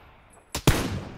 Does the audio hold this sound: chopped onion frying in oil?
no